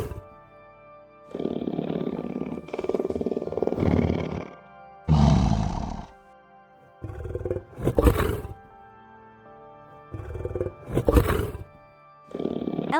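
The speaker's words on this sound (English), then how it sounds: "Lion. A lion says," A lion roars repeatedly in a series of loud, deep bursts with short pauses between them, standing alone with no other sound around them.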